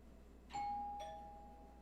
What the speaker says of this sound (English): Apologies to anybody's animals who just jumped because my doorbell rang